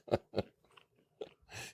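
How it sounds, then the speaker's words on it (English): A person chewing nuts close to the microphone: about five crisp, crunching bites in an uneven rhythm with brief pauses, the last one longer and softer, with no talking. "I'm eating my nuts."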